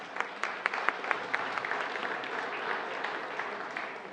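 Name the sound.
audience applause welcoming the speaker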